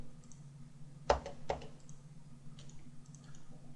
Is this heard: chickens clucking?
no